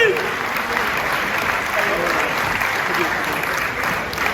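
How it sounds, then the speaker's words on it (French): Audience applause at a French culinary competition in Sarlat-la-Canéda, steady crowd clapping throughout with a voice speaking over it. "on peut l'applaudir"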